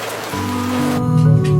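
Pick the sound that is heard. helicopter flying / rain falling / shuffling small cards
rain falling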